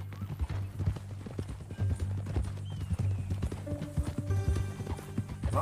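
Repeated clip-clop of horse hooves in Red Dead Redemption 2, with a brief whinny, steady and fairly close over a low hum and faint game ambience.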